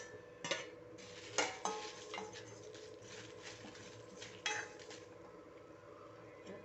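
Ingredients for a black pepper masala for a chickpea curry are sautéed in hot oil while a spoon stirs, giving a quiet, steady frying hiss with a few sharper scrapes, near and without talk.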